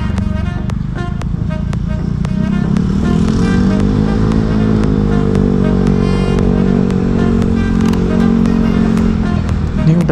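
Motorcycle engine and exhaust while riding at night in Bali, a steady loud drone with a slowly rising and falling pitch, plus scattered clicks, continuous throughout.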